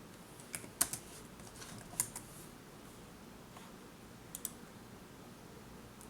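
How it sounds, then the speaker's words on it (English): Typing on a computer keyboard, a few scattered soft key clicks in short clusters, close but faint, with no voices. "So I'm going to type in that and see if I can find a match."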